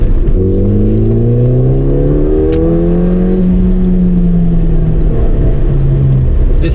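A 2014 Ford Fiesta ST with its 1.6-litre turbo engine accelerates hard through the gears, a loud, close engine note climbing in pitch, dropping at each shift, then pulling steadily again with no talking.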